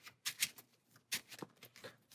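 Playing cards shuffled by hand during a solo Marvel Champions card game, a few quick riffling bursts with short pauses between, close and fairly soft.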